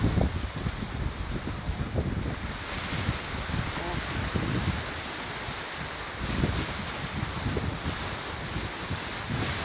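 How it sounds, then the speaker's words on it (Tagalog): Ocean waves building and breaking near a small fishing boat, a steady broadband wash of surf with wind rumble, surging louder around the start and again late, filling the scene without pause. "Laki-laki na mga alon, oh."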